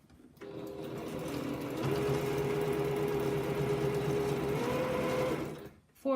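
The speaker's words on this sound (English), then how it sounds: "For the heavier seams, I find that if I stitch with a hand behind the presser foot and one in front of it" A sewing machine runs steadily through heavy quilt seams, a close, continuous whirring drone lasting several seconds before stopping abruptly.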